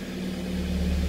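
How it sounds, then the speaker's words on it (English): A Mazda Miata NC idles right after starting, a steady low engine hum that holds even and close for about a second with no talking. "So turning the car on"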